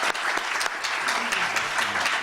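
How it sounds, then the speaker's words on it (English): Applause for a panel at a global health economics colloquium, a dense, steady clapping from a seated audience filling the whole short stretch without a pause. "can we have a round of applause for the panel"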